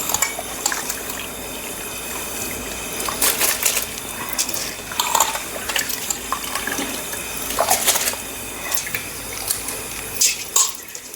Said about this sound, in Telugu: ఇప్పుడు బియ్యం వేసుకుందాం